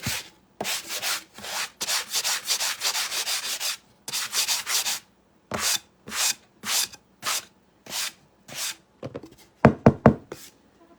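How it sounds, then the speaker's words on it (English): Hand sanding of a wooden 3D project piece in a garage, made in repeated rasping strokes, at first long and continuous, then shorter separate passes, ending with a few quick knocks. "I'm just going to sand this down so it has a nice smooth surface"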